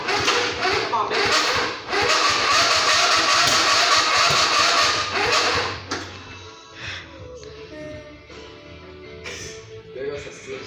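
A 25 HP Briggs and Stratton V-twin engine on a hot rod lawnmower build cranks in loud, rough bursts for several seconds, then settles into a softer, uneven sputter, with voices heard in between.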